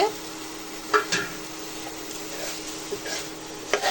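Fried potatoes and broccoli with spices are turned in a pan, giving a soft background sizzle broken by a few scraping and clinking strokes of a utensil against the pan, with no one talking.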